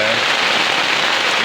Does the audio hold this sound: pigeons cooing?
no